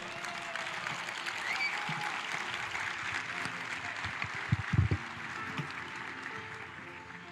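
A church congregation claps in steady, dense applause at moderate distance, sustained throughout with a few louder thumps near the middle.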